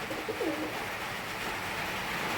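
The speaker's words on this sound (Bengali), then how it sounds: "পায়রা দুটো স্ট্যান্ডিং দেখুন কীরকম গরম রয়েছে দেখুন ডাক পড়ছে" Giribaz pigeons, an adult breeding pair, give a brief soft coo early on, fairly faint against a steady background hiss, with no talking.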